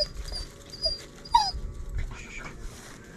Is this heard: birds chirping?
no